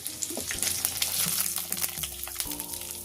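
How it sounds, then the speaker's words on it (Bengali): Vegetables such as potato, pumpkin, beans and eggplant being dropped into hot oil over fried ginger for a sojne flower dish, with steady crackling sizzle, bursts as pieces hit the pan and a few metallic knocks, close and fairly loud. "এবারে যে সবজিগুলো রেখেছিলাম সেই সবজিগুলো একে একে তেলের মধ্যে দিয়ে দেব"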